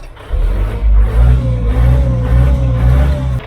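A four-cylinder 57 hp engine on a Neron S-35 self-propelled loader revs up close and loud, rising into a sustained, throbbing mid-range roar with a faintly wavering tone.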